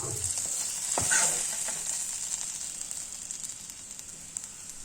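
Modhuhulang frying in hot oil, giving a steady close sizzle with a brief louder burst of spattering near the start, then an even, soft crackle with no voices.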